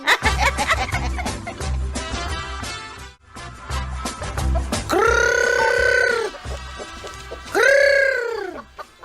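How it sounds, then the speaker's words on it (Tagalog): Chickens cluck in rapid, repeated bursts close by, with a couple of louder drawn-out squawking calls standing out near the end, all without any talking. "Da kayo ang manok ni Uncle Kaw"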